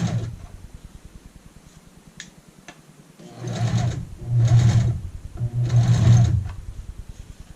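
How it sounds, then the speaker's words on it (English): A sewing machine stitches a waistband onto a skirt in three steady bursts of rapid, even needle chatter, separated by short pauses with faint ticking in between. "You're stitching on the face or right side"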